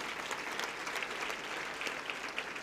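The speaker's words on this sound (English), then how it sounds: "I think we should clap for the scholars that we have here today." Audience at a Nairobi school event for schoolchildren claps for the scholars, a sustained, even wash of many hands at moderate distance with no talking.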